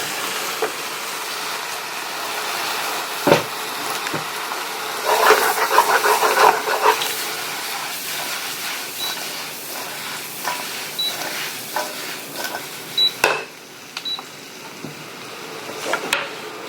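Sausage frying with vegetables and mushrooms in a pan for a keto shrimp stir fry, a continuous soft sizzle and hiss broken by scraping stirs and occasional clatters, close and without talk.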